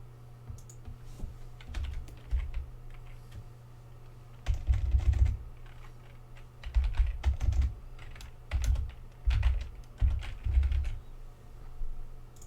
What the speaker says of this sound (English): just typing this out while I say it